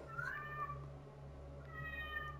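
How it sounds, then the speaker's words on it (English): A cat meowing indoors, two faint, drawn-out meows about a second apart over a steady low electrical hum, with no talk. "he's meowing like all the time"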